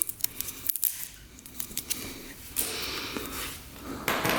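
Tape being cut and pulled off a two-stroke dirt bike: a few close, sharp snipping and crackling bursts, then softer rustling and scraping, with no talk.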